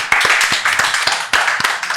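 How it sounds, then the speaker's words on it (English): Several people clap their hands in a quick irregular rhythm in a close, small room on a talk show, the sharp claps loud and close with no talking. "Get a hand clap for that."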